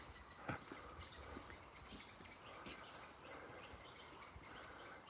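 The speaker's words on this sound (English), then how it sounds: "There's the birds." Birds chirp faintly in the distance on a morning walk beside waterfalls, with thin high calls scattered over steady rushing water noise throughout.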